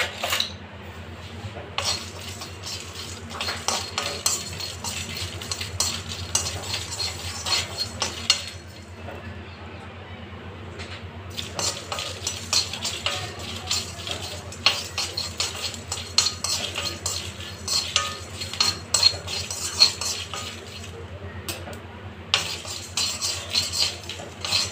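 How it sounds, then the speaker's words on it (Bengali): A spatula stirs and scrapes dry garam masala spices around a hot wok with no oil, giving rapid rhythmic metallic scraping and clinks that continue almost steadily with short pauses. "এটা শুকনো খোলায় ভেজে নেব।"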